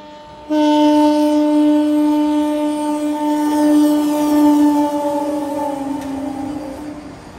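A Vande Bharat Express train sounds a loud, sustained horn that starts abruptly and holds for several seconds, with a rumbling passing-train roar beneath it.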